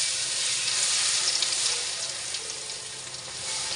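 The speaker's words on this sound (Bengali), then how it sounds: "আমি এখন এখানে রসুন দিয়ে দিচ্ছি" Garlic frying in hot oil for chalta (elephant apple) pickle, a steady, close crackling sizzle that holds at an even level throughout, with no voices.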